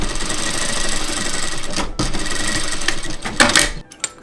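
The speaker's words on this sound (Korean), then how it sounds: "밑에 레이스 밑단 길이가 잘 맞도록 재봉해 주세요." A sewing machine stitching lace onto the hem of a doll's petticoat: a loud, fast, rattling run of stitches close up, pausing briefly near the middle and stopping toward the end with a few clicks.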